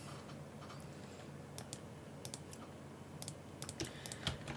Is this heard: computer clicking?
yes